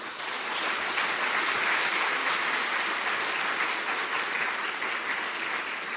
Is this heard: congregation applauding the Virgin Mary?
yes